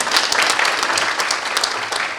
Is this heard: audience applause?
yes